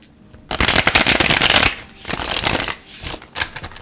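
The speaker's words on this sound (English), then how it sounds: "we're going to go one more shuffle." A deck of tarot cards riffled and shuffled close by in a dense, rapid fluttering burst, followed by two shorter, softer shuffles.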